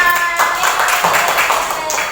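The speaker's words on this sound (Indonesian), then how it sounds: "tepuk tangan buat kita semua" A group claps together in dense, steady applause, loud and close, lasting a couple of seconds.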